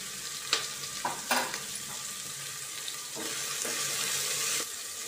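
Ginger paste fries and sizzles in a pan with tomatoes, and a spoon scrapes and stirs through it in a few distinct clatters over a constant loud hiss.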